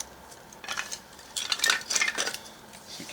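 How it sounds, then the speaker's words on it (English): A brand new ferro rod struck against the spine of a cheap Mora-style knife, giving a few sharp metallic scrapes and rasps in quick succession, close up and alone. "This is a brand new ferro rod, so yep, looks like we got a spark there."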